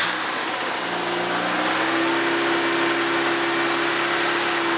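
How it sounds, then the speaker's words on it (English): A Mazda RX8 rotary engine runs after a lightweight pulley kit and belt replacement. It hums loud and close, and its pitch climbs smoothly as it revs, with no talking. "Now that we've reset the PCM, we can turn on the car."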